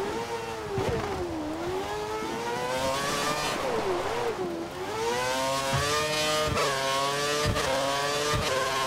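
Formula 1 race car engine in the F1 2013 game during qualifying at Kuala Lumpur, screaming high and steady with rising and falling revs through gear changes, loud and continuous without talk.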